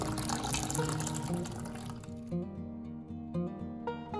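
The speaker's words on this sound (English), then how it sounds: "Adding more water to make it into a juice consistency." Water is poured into a vessel of blended beetroot juice, giving a steady splashing fill for about two seconds under soft background music, which carries on alone afterward.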